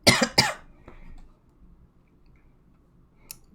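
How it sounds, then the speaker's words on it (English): Two sharp coughs come from a person recovering from an allergic reaction to a cat, close and loud, followed by a softer throat sound, then near-silence with a faint click near the end. "sorry for all my coughing"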